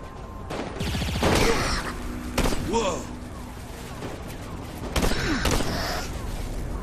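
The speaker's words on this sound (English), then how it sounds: "There's like fire and explosions going off everywhere." Bursts of Saints Row IV gunfire and booming explosions crackle in rapid succession, with a voice talking over the chaos.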